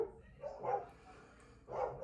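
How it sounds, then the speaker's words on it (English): Dogs barking at a neighbor indoors, two muffled bursts of barking separated by a short pause, moderately loud and somewhat distant. "They're barking at the neighbor."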